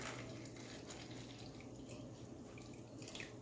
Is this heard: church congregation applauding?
no